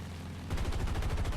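The .50 cal machine guns of an F4F-3 Wildcat fighter in the War Thunder video game open up in a rapid, evenly spaced burst of close, heavy shots after a brief low hum, with no talking.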